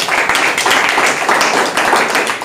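Applause from a church congregation during a Telugu Sunday sermon, with rhythmic hand claps that are loud and steady and continue through the whole stretch.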